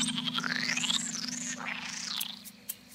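A creature in the video game Spore sings a warbling, sweeping melodic call over a steady low electronic hum, the voice gliding up and down before a short click near the end.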